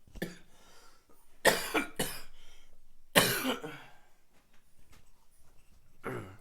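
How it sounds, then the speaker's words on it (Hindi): A person coughs several times in close succession, sharp bursts separated by short pauses, with a couple more coughs following after a gap. "खांसी बहुत आ रही है"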